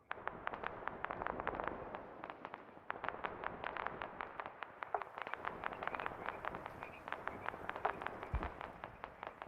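Rapid bursts of heavy .50 caliber machine gun fire in a military video game, sharp repeated cracks in quick strings with brief gaps, fairly faint and distant, with a low thump near the end.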